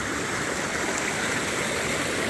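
A stream rushes at a trail crossing in the wilderness, a steady, broadband roar of flowing water, close and continuous with no voices.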